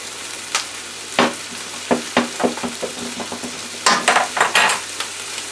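Jasmine rice and vegetables stir-frying in oil for a Thai-style spicy dish, a loud close sizzle broken by irregular scraping and tossing strokes, quickening into a cluster near the end, with no talking.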